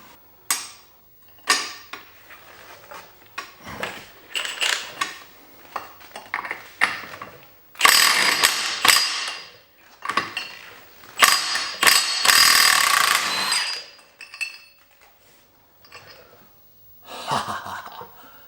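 A heavy powered impact tool works off a motorcycle clutch basket nut on a Kawasaki Ninja 1000 / Z1000 in repeated loud rattling bursts separated by short pauses, with mechanical clatter and occasional breathing nearby.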